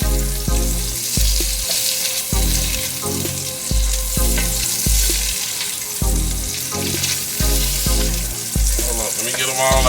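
Pieces of food frying in butter in a pan while gumbo is being cooked, a steady loud sizzle with repeated scraping and stirring knocks throughout.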